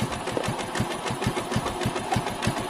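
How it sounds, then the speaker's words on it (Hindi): Motorcycle engine idling right after its carburetor air-mixture screw was tightened, a steady rapid low putter with regular pulses, close and fairly loud, running alone with no talk. "मैंने बाइक स्टार्ट की है"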